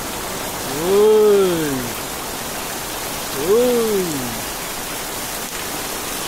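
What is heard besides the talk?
heavy rain falling during flooding in a slum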